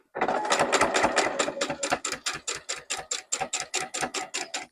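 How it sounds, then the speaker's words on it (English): A sewing machine stitches down a quilt-as-you-go four-patch block, a close, loud, fast run of even mechanical beats that slows into distinct spaced stitches toward the end, with no talking. "You just want to now turn your fabric and sew down the other side."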